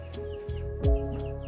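Broiler chickens a few weeks old cluck and chirp in soft, repeated short calls at close range, with a steady low hum running underneath.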